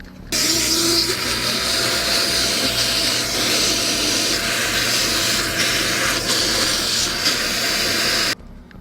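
A wet vacuum sucks up leaked water from under a kitchen sink during a leak repair. Its loud, steady airy roar starts abruptly, holds close and unbroken for about eight seconds, then cuts off.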